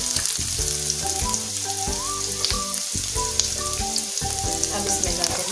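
Onions sauté in oil in a pan for egg fried rice, a close steady sizzle layered under faint tonal background music, with no speech.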